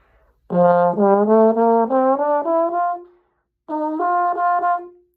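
A medium-bore brass instrument plays a relaxed, smooth phrase of several connected notes, pauses, then plays a shorter second phrase, clear and close with no talking.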